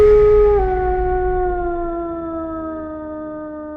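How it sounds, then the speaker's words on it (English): A werewolf howl sound effect: a single long, loud, wavering howl that starts strong and slowly drops in pitch and fades, alone with no other sounds. "can still hear the howls of Romasanta the werewolf"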